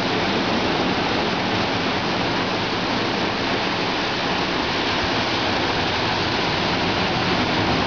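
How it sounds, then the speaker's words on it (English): Ocean waves rolling in at sunset near a condo on Oahu, Hawaii, heard as a steady, even wash of surf, continuous and moderately loud with no voices. "Those waves."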